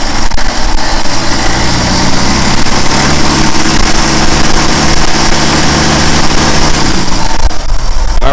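A car engine with a one-wire alternator idles steadily and loudly up close, a constant low mechanical hum with whirring overtones and no voices.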